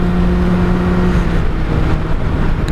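Honda CBR600RR motorcycle engine droning steadily while riding, a loud sustained hum mixed with rushing wind, no talk.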